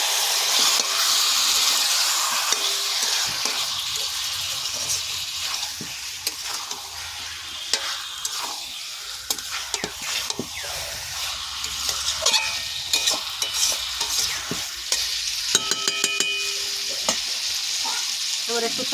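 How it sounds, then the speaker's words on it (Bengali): Marinated chicken sizzles and fries in hot oil in a pan for a chicken curry, a steady loud hiss with scraping and stirring clatter throughout and no talking. "তেল ছেড়ে গেছে, এবারে আমি চিকেনটা দিয়ে দেবো। ম্যারিনেট করা চিকেন দিয়ে দেবো।"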